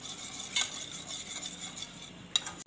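A spoon stirs custard powder into warm milk in a bowl, making soft, steady swishing and a couple of light clinks against the side, close up and quiet.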